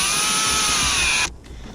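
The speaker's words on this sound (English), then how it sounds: "before we start drilling into dashes and that kind of stuff" A power drill whines loudly at steady high speed drilling into a car dashboard, then cuts off abruptly, leaving faint room noise.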